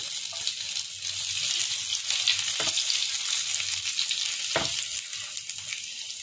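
Steady sizzling of garlic frying in hot oil, crackly and hissy, with a couple of brief stirring or clinking sounds, close and continuous.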